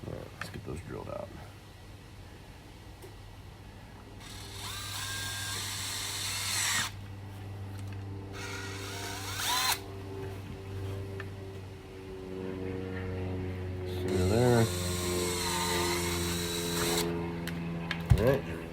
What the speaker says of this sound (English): Let's go ahead and drill those out.